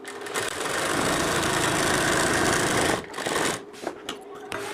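A sewing machine runs stitching blouse fabric on a diagonal seam, a continuous whirring buzz for about three seconds, then a few short stop-start bursts.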